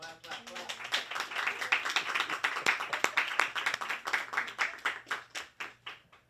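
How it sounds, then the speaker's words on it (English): A group claps in a steady rhythm that builds and then fades, with voices calling out faintly under the clapping. "give me some clap"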